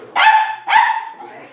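A dog barks twice in quick succession, loud and close, each bark a sharp harmonic burst, the second trailing into a brief whine, with no talk over it.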